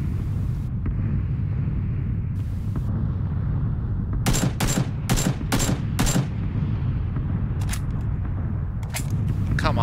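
A quick burst of five or six rifle shots fired at an enemy in PUBG, loud and closely spaced, followed by a couple more isolated shots over steady ambient game noise.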